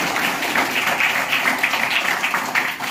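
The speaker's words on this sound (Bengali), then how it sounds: "জোরে হাততালি দিয়ে" A school audience at Chaterhat High School in Darjeeling claps loudly together, producing a steady wash of dense applause that lasts throughout.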